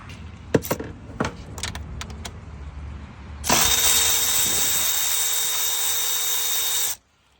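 A Milwaukee 1/4-inch drive cordless ratchet with a 4-inch extension and 10mm socket whirs steadily for about three and a half seconds, loosening transmission pan bolts on a 2023 Sierra HD 10-speed. A few sharp metallic clinks of tool handling come first.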